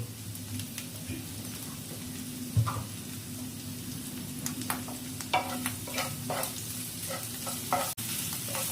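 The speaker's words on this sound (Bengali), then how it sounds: "এই আলুটা মশলার সাথে খুব ভালোভাবে কষিয়ে নিতে হবে" Potatoes fry in spiced oil with turmeric, cumin powder and salt, a constant sizzle broken by repeated scraping strokes of a spoon stirring them in the pan.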